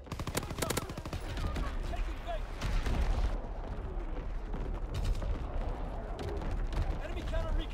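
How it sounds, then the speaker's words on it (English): Incoming enemy artillery in the video game Call of Duty WW2: dense bursts of gunfire and heavy booming impacts roll continuously, with game voice announcements heard over the battle. "Incoming enemy artillery."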